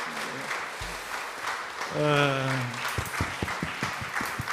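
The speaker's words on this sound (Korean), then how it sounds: "박수 한번 합시다" Scattered clapping from a church congregation at an evening worship service, starting after a voice and a brief sung tone, with sharp individual claps growing through the final seconds.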